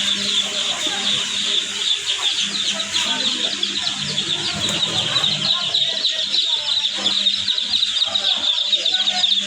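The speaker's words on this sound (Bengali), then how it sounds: "দেখেন আমাদের মুরগির বাচ্চাগুলো।" A large brood of colour-bird chicken chicks at a poultry hatchery chirps in a dense, continuous chorus of high peeping that stays fairly loud and busy throughout.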